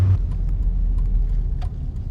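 A Renault Twingo with a manual gearbox drives on a sunny, snowy day, a steady low engine and road rumble inside the cabin with a few faint knocks.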